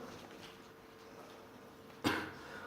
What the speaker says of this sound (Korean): 오늘 계속 기침이 더 많이 나오네